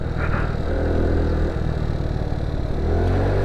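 A GY6 50cc scooter engine with a loose spark plug, idling and given light throttle, a steady close mid-pitched engine drone that swells slightly without any speech.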